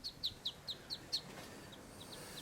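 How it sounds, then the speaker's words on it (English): Newborn baby ducklings peep in a quick series of high, sharp chirps, about six close together and then fainter ones trailing off, alone without talk. "Two of our beautiful little baby ducks."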